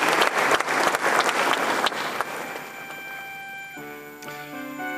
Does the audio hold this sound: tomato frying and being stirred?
no